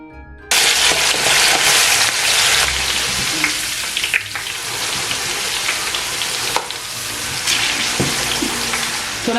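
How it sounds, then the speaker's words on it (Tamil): Steady, loud sizzling and crackling of peanuts frying in hot oil, starting abruptly and continuing with occasional pops and stirring noises. "கடலையை வந்து நாங்கள் போட்டு நல்லா கோல்டன் ப்ரௌனாக பொரிச்செடுப்போம்."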